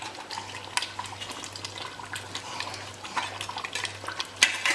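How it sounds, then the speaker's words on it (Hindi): Mutton is stirred and roasted in a pan over a high flame, producing close, busy scraping and clinking strokes over a steady sizzle, with a low hum underneath. "लगातार ऐसे घुमाएंगे और अच्छा बढ़िया भून लेंगे"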